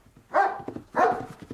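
A dog gives two loud, close barks in quick succession in answer to a whistle, each sharp and full-bodied, with brief quieter yips and scuffling between them.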